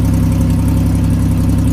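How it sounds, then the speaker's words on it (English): A turbocharged V6 Mustang with a slight exhaust leak idles close by, a loud, steady, throbbing rumble with no talking over it. "Got a tad bit of an exhaust leak."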